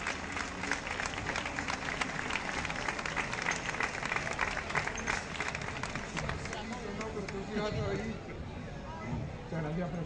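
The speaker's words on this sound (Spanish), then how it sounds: "Un aplauso." A crowd at an award presentation during a grape harvest festival in Villafranca de los Barros breaks into sustained applause, dense and steady, with some crowd chatter mixed in.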